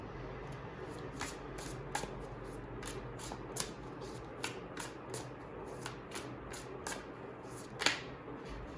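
Tarot cards shuffled by hand in a steady run of crisp riffling snaps and slides, close and fairly quiet, with no talking.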